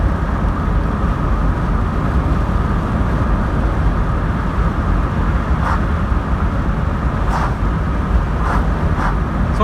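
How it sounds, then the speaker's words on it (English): Steady, loud broadband wind rush fills a 1986 Vauxhall Cavalier driving through the Peak District with windows down and sunroof open, a continuous buffeting roar over road noise with a few faint brief chirps. "Got my windows down, so sorry if it's a little bit windy, and I've got my sunroof open as well, so there's a bit of wind noise"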